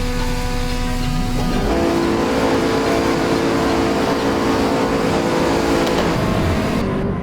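Bugatti Chiron engine in Assetto Corsa VR, a loud, continuous game-engine roar that climbs steadily in pitch while accelerating, then drops near the end.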